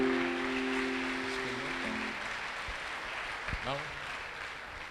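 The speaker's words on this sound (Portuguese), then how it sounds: "Dê uma salva de palmas a Jesus" A church congregation claps in applause, a broad steady patter that fades gradually over several seconds, with a voice and tonal sounds briefly heard under it.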